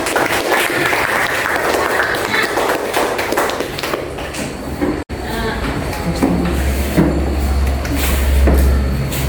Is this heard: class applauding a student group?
yes